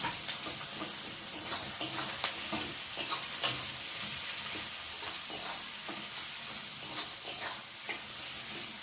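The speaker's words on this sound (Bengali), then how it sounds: "দিয়ে পেঁয়াজটা একটু ভালো করে ভেজে নিলাম" Sliced onions and green chillies crackling in a pan, a continuous soft sizzle with repeated spatula scrapes and stirring knocks at an even pace, close and fairly quiet.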